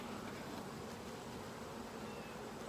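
Honeybees work over a hive frame while summer nucleus colonies are prepared, a faint, continuous close buzzing hum with no voices.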